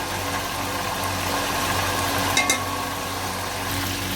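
Tomatoes frying with green chili and white pepper in a pan for beef yakhni pulao, a steady close sizzle with a brief stir clink near the middle and no talking.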